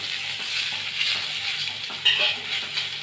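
Cumin seeds fry in a pan with chili and sugar, giving a steady close sizzle with light stirring scrapes and one brief clatter near the end.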